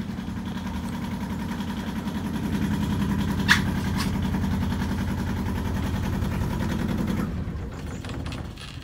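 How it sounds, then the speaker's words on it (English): Inboard motor on a 1989 Hunter 30 sailboat runs with a steady low chugging throb for about seven seconds, then shuts off, leaving quiet cabin ambience and faint rustling. "Let me go ahead and turn the motor off so you can hear me."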